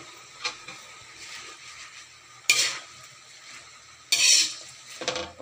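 Kangkong (water spinach) sautéing in a pan, with a low steady sizzle and a few sharp bursts of hissing and stirring scrapes spaced a couple of seconds apart.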